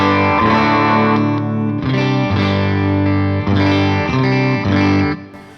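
Bass running its full signal through an HX Stomp effects loop, with chorus and distortion coloring a few loud sustained notes that change roughly every second before fading out at the end.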